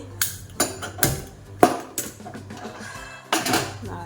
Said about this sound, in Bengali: এই যে নুন আর বাতাসা দিয়ে দিয়েছি, এটা একটু নেড়ে নিয়ে গরম করব